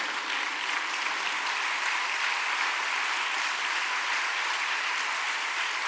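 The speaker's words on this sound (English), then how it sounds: "let's stand up and applause" Sustained audience applause at a charity fundraising breakfast for domestic violence survivors, a steady dense clapping that fills the room for several seconds without voices.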